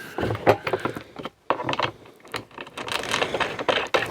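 Bolts with washers are hand-tightened onto the hopper of a BOSS BUCK 200lb gravity feeder, giving close, intermittent metallic clinks, scrapes and rattles with a brief pause midway.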